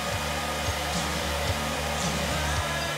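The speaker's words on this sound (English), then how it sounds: "Use your blow dryer on a warm setting and aim it towards your eyelash curler for a few seconds" A blow dryer on a warm setting is aimed at an eyelash curler, giving a steady, close, loud whooshing whir that holds level throughout.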